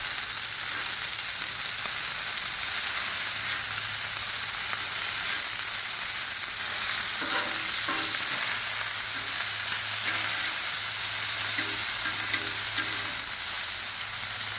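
Chicken sizzles steadily on a Blackstone griddle, a continuous loud frying hiss with faint scraping and stirring ticks in the middle stretch, and no voices.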